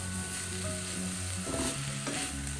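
Drumstick aviyal being stirred with a sprig of curry leaves and a teaspoon of raw coconut oil, giving steady mechanical scraping and soft sizzling that continues without pause, with no talking.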